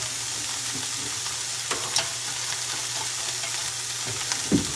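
Large-leaf greens, not baby spinach, sizzle steadily in a hot pizza skillet as they are tossed. A constant hiss of frying runs throughout, broken by a few soft clicks and thumps of stirring.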